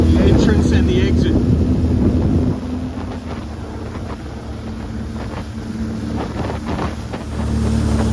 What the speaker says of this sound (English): it's a westerly wind, 20 kilometers an hour